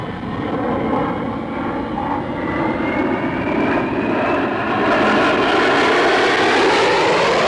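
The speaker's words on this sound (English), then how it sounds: "The formation climb for a final loop." Jets of the RAF's Treble One Squadron climbing in formation into a loop, a loud continuous engine roar with a slowly rising whine that swells toward the end, steady and close.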